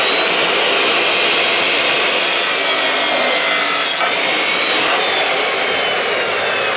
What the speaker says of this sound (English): I'm just using my saw to cut up the pieces for my frame to hold